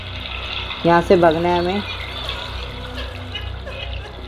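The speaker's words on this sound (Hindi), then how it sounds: "ये क्या पानी है? कोई सीवर है शायद से।" Water rushes continuously through a sewer in the horror video game Metel, a steady broadband flow that persists under a brief spoken line from a player.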